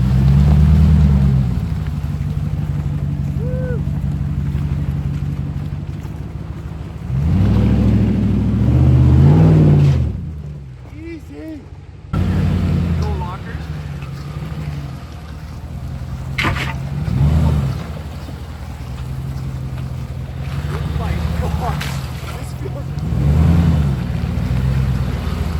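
Dodge and Ford 4x4 trucks off-roading at an off-road park: engines rumble and rev in repeated surges, loud and close, with a brief lull midway before more throttle bursts.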